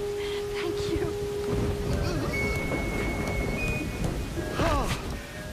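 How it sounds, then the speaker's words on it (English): A jungle rain storm in a Legend of Tarzan cartoon pours down as a steady, dense hiss. Voices and brief animal calls come over the rain. "Let's get out of the rain, Tantor."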